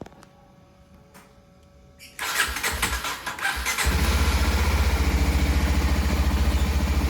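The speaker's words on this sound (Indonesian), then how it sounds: "suara knalpotnya ini seperti ini, yang dihasilkan dari knalpot standar" A Kawasaki Ninja 250SL motorcycle engine cranks and catches, then settles into a steady, smooth idle from a stock exhaust, loud and close with no talking.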